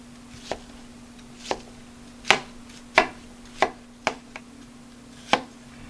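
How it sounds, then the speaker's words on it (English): A knife chops through an onion on a cutting board, about eight sharp, separate cuts in an uneven rhythm, close and distinct against a steady low hum. "what you do is cut off the bottom, which is the small little root area, and then slice in like this"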